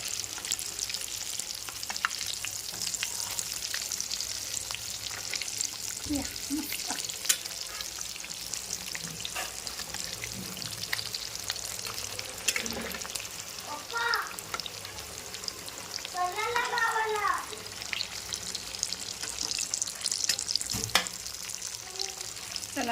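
Potato vadas sizzling and bubbling in hot oil in a kadhai, a steady crackling fry with occasional scraping stirs and a few faint chirps in the background.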